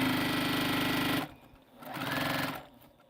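Sewing machine stitching pieces of an Africa map quilt: a steady, loud mechanical whir that stops abruptly, then a second shorter run after a brief pause, close by.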